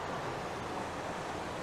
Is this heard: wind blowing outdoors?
yes